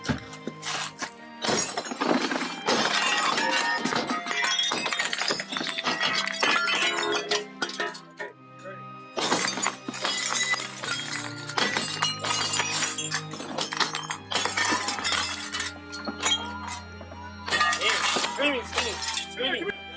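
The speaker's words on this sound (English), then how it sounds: "As one deputy shattered the window" Bursts of breaking window glass and sharp clinks come in several loud crashes separated by brief pauses, with thuds between them.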